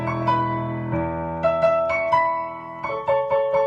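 The Charlie and Lola theme plays on piano with both hands: four-part chords in the right hand over a low A in the left, bright repeated chord strikes at a steady, gentle pace.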